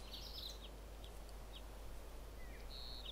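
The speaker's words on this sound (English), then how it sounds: "All the birds and stuff." Several birds chirp and tweet in short, bright bursts over a steady low ambient hum in Final Fantasy VIII, with calls scattered across the scene and no talking.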